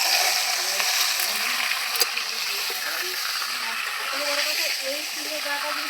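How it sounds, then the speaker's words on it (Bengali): Mutton frying in a kadai over a clay earthen stove outdoors at night, giving a steady, close sizzle and hiss throughout with faint stirring clinks and people talking underneath. "এবার কড়াই মাটন দিয়ে দিচ্ছি মাটনটাকে একটু কষিয়ে নেবো ভাজতে"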